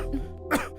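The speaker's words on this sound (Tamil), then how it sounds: "இருமல் வந்துச்சு, அதான் எந்திரிச்சிட்டேன்" A man wakes at night with a cough: a single short throat-clearing cough, close and fairly loud, preceded by a low hum, with no talking.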